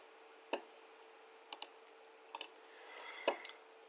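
Sparse, crisp clicks from a computer mouse or keyboard during server administration on Red Hat Enterprise Linux, coming singly and in quick pairs over quiet room hiss, with no talk.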